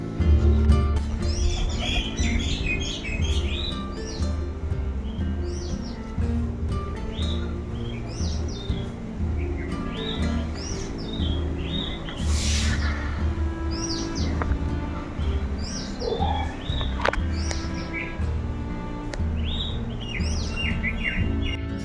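Birds chirp and tweet steadily on a hilltop by the Balamurugan temple near Chengalpattu, bright calls scattered throughout over a constant low hum, with occasional cooing and no talking.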